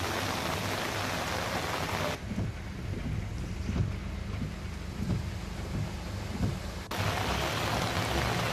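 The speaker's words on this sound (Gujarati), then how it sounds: "ધોધમાર વરસાદ વરસ્યો" Heavy monsoon downpour in Gujarat roars as a dense, steady wash of rain, loud and close, with gusty wind rumble buffeting the microphone at the start and end.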